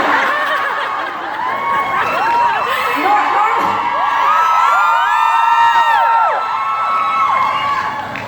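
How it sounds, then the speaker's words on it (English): An audience at a Young Living Philippines grand launch cheers and whistles for a singer, a loud, sustained crowd roar with scattered shouts and laughter rising and holding throughout. "it doesn't happen a lot that I get a standing ovation before I even start to sing"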